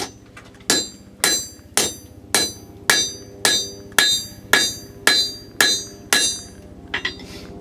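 Blacksmith forging at an 1850s working farm and living history museum: about a dozen sharp, ringing hammer blows on metal, evenly spaced roughly every half second, close and clear with no talk.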